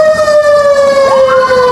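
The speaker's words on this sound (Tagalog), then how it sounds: "Medyo maingay mga idol. Dumaan yung mga bumbero." A fire truck's siren sweeps past on a city street in Pasay. The loud, steady electronic wail is close and dominant, and its pitch bends downward as the truck goes by, over a low traffic rumble.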